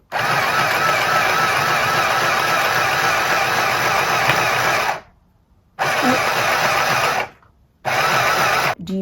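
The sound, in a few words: sewing machine sewing with foot pedal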